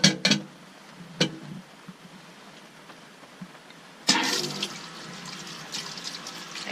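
Tap water runs onto dishes in a sailboat galley sink, a few brief splashes and clinks at first, then a steady rinsing stream starting midway and continuing close and moderately loud.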